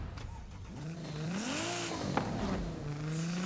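A modified 2019 Nissan 370Z drives in Forza Horizon 5, its engine tone rising and falling steadily across the clip, with a brief sharp transient near the middle and a sustained hum at the end.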